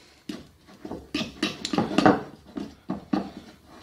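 Fishing bait paste is mixed in a bowl, giving irregular clattering knocks and scraping scuffs that come in quick close clusters with short pauses between, near and fairly quiet.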